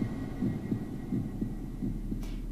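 A heartbeat sound effect in the horror video game Layers of Fear pulses faintly in regular double thumps over a low hum, with no voices.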